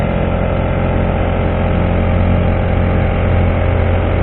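A Honda 35cc outboard motor pushes a Nucanoe Frontier 12 kayak, running with a steady, loud, close drone at constant throttle throughout.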